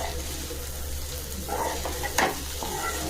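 Okra frying in a pan as a spatula stirs chili powder through it, with a low steady sizzle broken by a few scraping strokes and one sharper clack near the end, close up with no voices.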